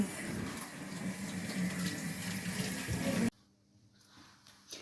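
Hands are washed under a running kitchen tap, a steady splashing stream for about three seconds that stops abruptly, leaving faint drips and room quiet.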